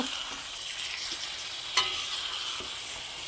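Ladle stirring small pitta parigelu fish frying in a pan, a steady sizzle with soft scraping strokes and a sharper clink near the middle, no talking.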